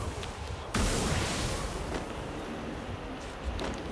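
An explosive gun fires in the Free Fire video game: a sudden loud blast that bursts in and stays as a roaring, rumbling wash of noise before easing, with a smaller crack near the end.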